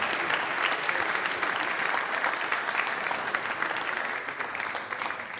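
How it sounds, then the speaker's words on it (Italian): Steady, even applause from a seated audience at a public talk-show event, thick and continuous throughout with no voices standing out. "Un applauso magari per loro"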